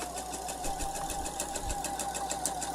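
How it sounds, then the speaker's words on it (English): A sewing machine runs steadily, stitching along the neck edge of a pullover top with a rapid, even, close-up rhythmic whir and faint knocks. "So I just continue stitching."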